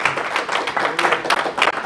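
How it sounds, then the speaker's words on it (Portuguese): A church congregation claps together during a sermon, a busy, uneven wash of many hands with voices mixed in underneath, fairly loud and close throughout. "Salva de palmas para Jesus"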